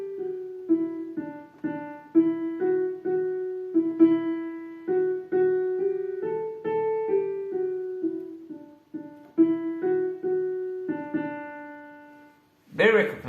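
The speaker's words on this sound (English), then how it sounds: "I'm going to play for you the melody of Beethoven's Ninth Symphony." Beethoven's Ninth Symphony melody (the Ode to Joy theme) played as a simple single-line tune, one sustained note after another in a steady rhythm, clear and alone, ending with a brief louder burst.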